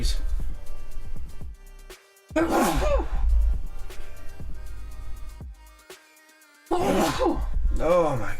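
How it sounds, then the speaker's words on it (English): Two explosive sneezes separated by a few seconds, close and loud, with quiet breathing and low background noise between them. "I gotta sneeze."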